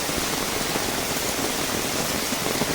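Heavy first monsoon rain pours down on a Konkan village in Ratnagiri, a dense, steady hiss of falling water drumming on surfaces, loud and unbroken throughout with no voices.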